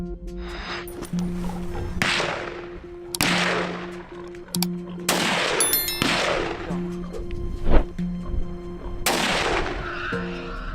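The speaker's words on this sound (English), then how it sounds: "We take up our guns and fight." Gunfire from farmers shooting at wild boars outdoors, several loud sharp shots spaced a second or two apart with long echoing tails, alone without talk.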